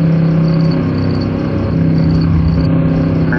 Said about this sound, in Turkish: Araba geliyor.